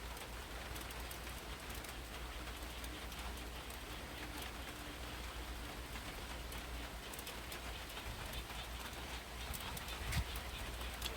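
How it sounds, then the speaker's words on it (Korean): Heavy rain falls in a steady, even hiss of drops on surfaces, constant and fairly faint throughout, with no clear voices over it. "비 많이 온다."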